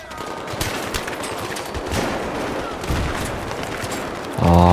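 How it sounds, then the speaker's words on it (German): Gunfire in the video game Battlefield 3 co-op mode: dense, continuous machine-gun bursts and rattling shots, loud and close, with a brief electronic tone near the end. "Ah, wer schießt da?"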